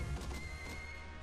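A horse neighs in the Monster Strike video game as it takes a hit, a short, quiet whinny layered over busy game effects and a faint crash.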